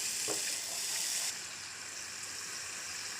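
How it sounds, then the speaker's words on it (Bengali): Spice masala cooking down in a pan with salt and a splash of water gives off a soft, steady sizzle that eases slightly partway through and stays fairly quiet throughout, with no talking. "আমি আরেকটু জল দিয়ে ভালো করে কষিয়ে নেব।"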